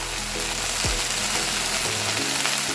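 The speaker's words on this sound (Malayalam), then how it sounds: "നമുക്ക് തക്കാളി അരച്ച് വെച്ചത് ഒഴിച്ച് കൊടുക്കാം" Ground tomato puree blended with chickpeas hits a hot frying pan for chana masala, giving a loud, steady close sizzle with a brief sweep as the liquid goes in.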